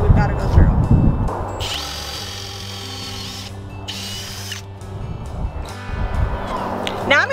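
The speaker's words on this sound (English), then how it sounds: "Drill bit on here and I'm gonna be drilling down 2 inches" Power drill boring holes into a wooden farmhouse table, its steady whine rising in two long bursts with talk before, between and after.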